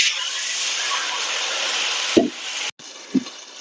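Water poured into a hot pan while cooking chicken ema datshi, a Bhutanese chili and cheese dish, giving a steady loud broadband hiss and sizzle with a couple of soft knocks near the end.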